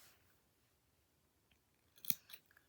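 A single quiet snip of scissors cutting crochet yarn after a near-silent pause, followed by a softer second snip, close and brief.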